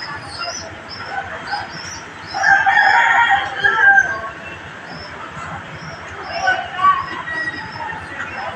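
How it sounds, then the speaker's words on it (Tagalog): Roosters crow in a rural Cavite neighbourhood in the Philippines, several calls rising over steady background noise and chatter, the loudest burst near the middle and a fainter one toward the end. "Yan ang mga ibon natin."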